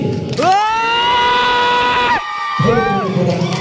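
A crowd at a dance competition cheers for the winner, with long sustained whoops and shouts rising and falling over a background roar. A brief pause comes before a second burst of excited yelling.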